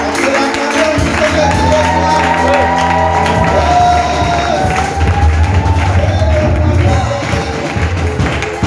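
A church congregation claps and cheers loudly, with whoops and shouts rising over sustained applause and a rhythmic beat of clapping, close and full throughout.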